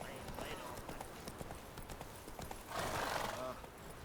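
A horse galloping in the video game The Witcher 3: Wild Hunt, rapid rhythmic hoofbeats with a whinny near the end, heard under someone speaking.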